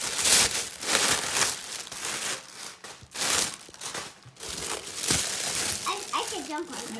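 Cardboard and paper packaging from a ThredUp jewelry box being ripped open and crinkled, loud and close, with continuous tearing and rustling bursts while people talk in the background.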